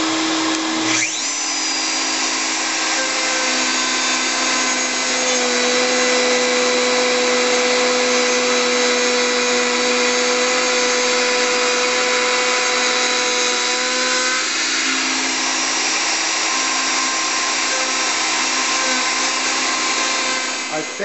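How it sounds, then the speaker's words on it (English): A woodworking router fitted with a half-inch round-over bit runs continuously with a vacuum dust collector attached, a loud steady high whine and motor drone shaping the edges of a candle stand base, close and sustained. "I'm using my router with a 1/2 inch round over bit with good dust collection on it."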